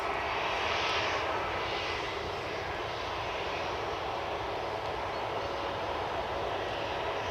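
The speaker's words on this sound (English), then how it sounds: "US Army UC-35 Cessna 560" A US Army UC-35 Cessna 560 jet approaching Edinburgh airport, its engine roar steady and loud across the whole span, a broad continuous rumble with no pauses.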